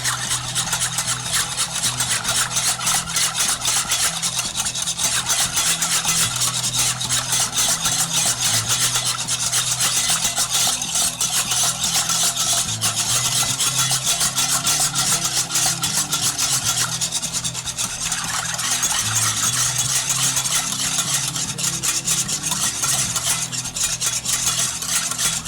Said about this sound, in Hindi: ये मैं इसके अंदर ऐड कर दूंगी और हम इसको मिक्स कर लेंगे।